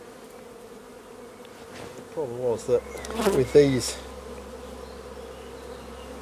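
Honey bees buzz steadily around an open farm beehive, a soft continuous drone running under close conversational talk.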